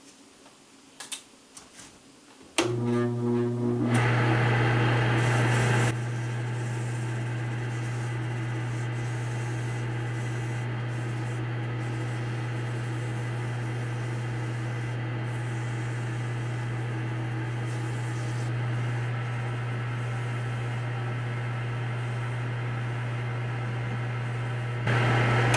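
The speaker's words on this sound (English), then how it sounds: "we're going to go ahead and walk up through our various grits of sandpaper, moving right now to 240 and working our way up to 400" Spalted wood pen blank spinning on a lathe while sandpaper is worked through finer grits, a steady loud hum and whir running continuously after a brief start, with no talking.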